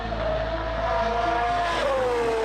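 Formula 1 race cars whip past one after another at high speed, a loud continuous engine whine with a rising and falling pitch sweep as a car passes close by, heard alone without talk.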